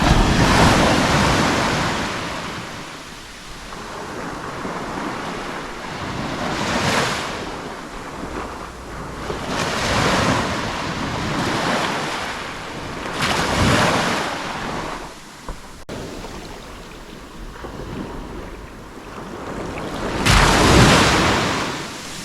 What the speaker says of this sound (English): Yep, we're in the sea. It's a bit stony, but the water's very clear.